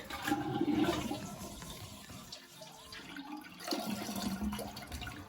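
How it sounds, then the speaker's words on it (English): A household toilet flushes to empty its tank during a running-toilet flapper and refill valve repair, a close, loud rush of water that swirls, eases, then surges again as the tank drains. "I'm going to do that by just flushing the toilet."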